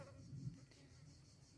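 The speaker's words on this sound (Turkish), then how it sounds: "Sineklerden başka beni takip eden hiçbir şey yok." Flies buzzing around a traveller on the road near Kıyıköy, Kırklareli, Turkey: a faint, continuous droning hum with a slight swell as one passes close, and no voices.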